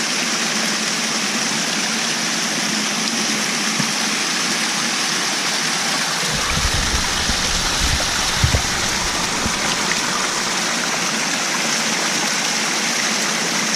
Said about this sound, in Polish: strumień jest naprawdę pokaźny